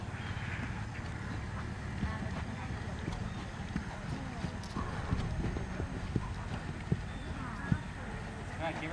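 A ridden pony's hooves clip-clop in a steady rhythm on an arena surface, close and moderately loud, while a voice gives riding instructions over them.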